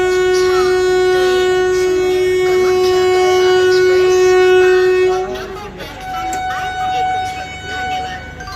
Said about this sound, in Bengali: আমাদের ট্রেন তার নির্ধারিত সময়ে এনজিপি স্টেশন থেকে ছেড়ে আস্তে আস্তে বেরিয়ে যেতে লাগলো